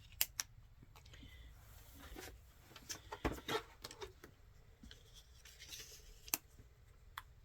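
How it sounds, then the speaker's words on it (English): A paper trimmer slices along the edge of a scrapbook page, giving short scraping, rasping cuts with a few sharp clicks, close and fairly quiet, with no talk. "I use my trimmer and go right up against it and just cut the edge"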